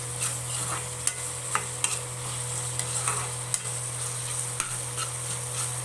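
Ginger garlic paste fries in hot oil, a continuous quiet hiss under a low hum, punctuated by sharp ladle taps and scrapes as it is stirred.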